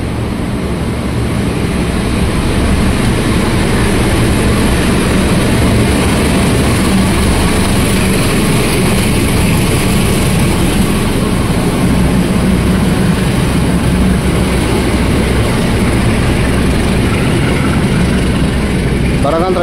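Diesel locomotive, a CC 203, hauling the Manahan passenger train at Jatinegara station, a loud continuous low engine rumble that holds steady throughout with no clear breaks.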